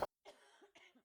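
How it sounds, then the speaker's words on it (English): A single sharp cough bursts out at the very start, loud and close, followed by quiet, muffled talk from a person nearby. "They love coughing"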